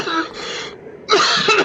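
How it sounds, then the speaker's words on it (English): A man with a bit of a cough gives two quick, harsh throat-clearing coughs close up, separated by a short pause. "I've got a bit of a cough"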